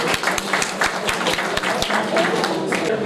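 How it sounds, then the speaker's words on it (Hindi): An audience at a software fair claps together with a few sharp, distinct claps standing out over a continuous wash of applause, with voices mixed underneath. "इसके लिए आप सभी के लिए जोरदार तालियां हो जाए"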